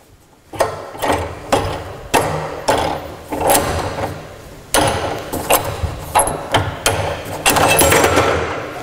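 A rim clamp being released on a manual-hydraulic universal drum rotator lift (model STM01-DRU01) produces a series of loud metallic clanks and ratcheting knocks over steady mechanical noise.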